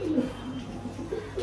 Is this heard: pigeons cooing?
yes